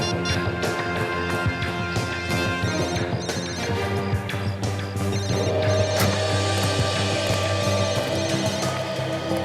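A phone rings steadily through a dense, busy background of music or noise that runs the whole time.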